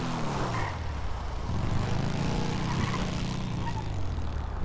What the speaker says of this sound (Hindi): अगर ओरिजिनल जो Harley Davidson Fat Boy रहता ना उसी के जैसा आवाज़ आ रहा भाई